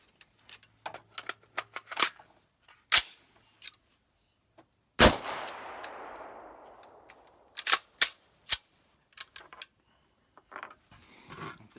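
A rifle fitted with a Radical Firearms upper is fired while malfunctioning, giving sharp, irregular single gunshots with gaps between them; one loud report near the middle rings out with a long fading echo.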